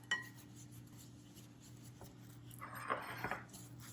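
A spoon knocks and scrapes faintly against a bowl while broccoli salad is stirred, with a few soft clinks clustered near the end over a quiet room hum.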